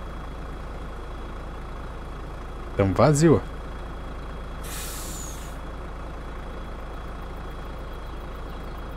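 Air-brake hiss from a truck in a farming simulator game, one short loud burst of about half a second, then a brief airy release. Low steady engine hum runs underneath, and someone speaks briefly.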